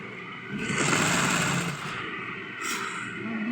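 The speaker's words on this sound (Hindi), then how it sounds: "फिर ऐसे पकड़ के इसको सिलाई मारूंगी" A sewing machine stitches a kurti seam in a fast, close, buzzing run that eases off briefly and then starts again. No one speaks.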